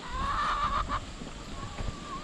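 Chickens cluck close by in short, busy bursts near their coops, with faint outdoor noise behind them.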